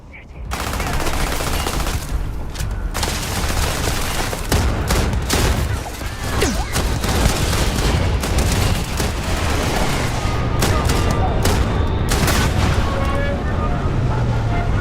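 Sustained heavy gunfire during a firefight in Starfield, dense overlapping bursts and rapid shots running without pause, loud and close, with occasional voices beneath the barrage.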